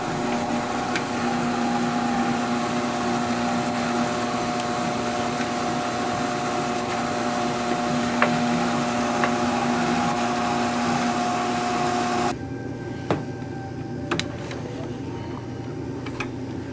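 A Strauch motorized drum carder hums steadily as it cards fibre, a constant close motor drone with faint clicks, then its tone drops and thins for the last few seconds.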